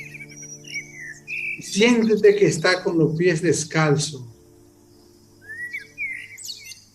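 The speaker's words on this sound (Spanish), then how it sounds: "Escucha a esos pajaritos" Small birds chirp and tweet in bright, high, whistled calls, clear at the start and again near the end, while someone speaks Spanish in a calm voice over the middle.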